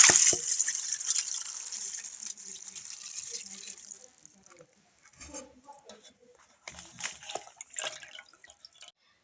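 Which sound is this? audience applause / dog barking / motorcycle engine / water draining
water draining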